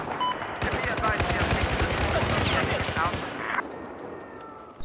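Automatic gunfire in the video game Battlefield 4 rattles in a dense, continuous burst of rapid shots for about three seconds before cutting off, with game ambience and a faint voice underneath.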